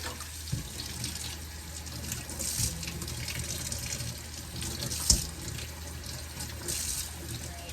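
A kitchen tap runs steadily into a sink while small banga fish are cleaned, a continuous close splashing flow with an occasional clink, no talking.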